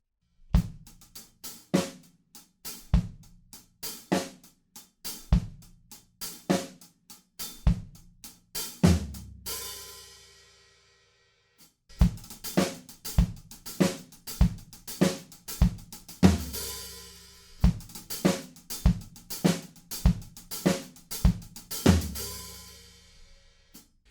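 A drum groove with syncopated hi-hat figures, 16th and 32nd notes, kick and snare punching through; it briefly stops, then resumes with the same pattern and a crash near the end.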